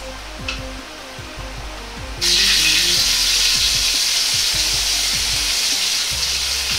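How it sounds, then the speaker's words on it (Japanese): Doubanjiang chili bean paste hits hot oil in a wok with a sudden loud sizzle that holds as a steady, close frying hiss over a low background hum. "油と豆板醤を同じぐらいの量にして入れ炒めていきます"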